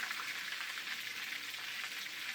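Garlic parmesan chicken meatballs fry in a pan with an even, continuous crackling sizzle that holds steady throughout. The sound is moderately quiet and close, with no talking.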